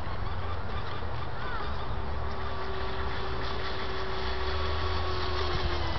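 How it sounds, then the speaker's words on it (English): The SV27R, a national-title racing boat, blasts off with a continuous, steady engine roar that holds a sustained tone throughout, fairly distant and unbroken. "SV27R blasting off."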